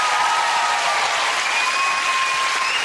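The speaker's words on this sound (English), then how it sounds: "Give them a big round of applause, the Curry family." A television studio audience at a family game show applauds loudly and continuously, a dense wash of clapping hands with faint whistles and cheers mixed in.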